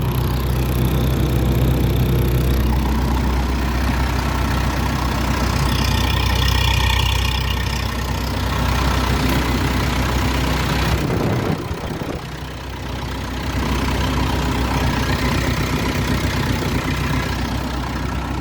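A Massey Ferguson 430 combine harvester engine idles steadily with a constant rumbling drone, dipping briefly near the end before settling back to an even idle.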